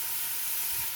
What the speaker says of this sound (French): Versez 500 ml de l'eau